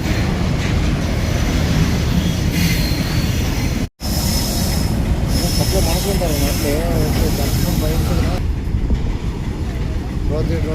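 A goods train rolls loudly and steadily through a railway level crossing on the Anantapur road in Rayadurgam town, with wheel squeal and rumbling wagons filling the whole stretch apart from one brief gap.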